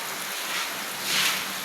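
Steady rain falling outdoors in the Philippines, a dense even hiss of drops that swells slightly near the end, with no one talking.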